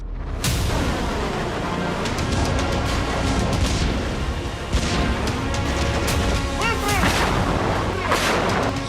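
Russian artillery fire and explosions, a dense run of loud heavy booms and blasts overlapping continuously with little pause between them.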